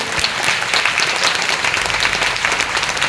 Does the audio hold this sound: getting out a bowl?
no